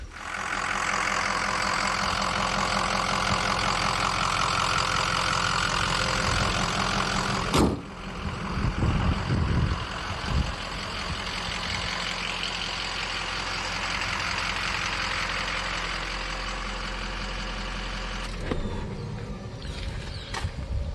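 A 6.0-liter Powerstroke diesel pickup truck engine runs steadily and loudly after head gasket repair, with a brief sharp knock partway through and a slight change in tone before continuing to idle.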